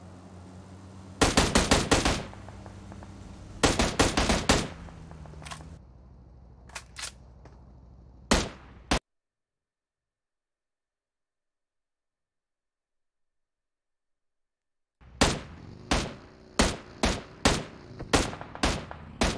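Gunshots in a PUBG Mobile esports match ring out in sharp clusters and single cracks, loud and close, with a long stretch of silence in the middle before another rapid series of shots.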